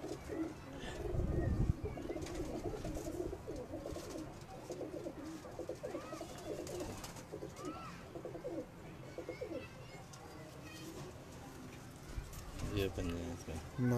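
Rooftop pigeons kept by a fancier coo in low, repeated throbs through a continuous, busy backdrop of bird calls, with voices murmuring underneath.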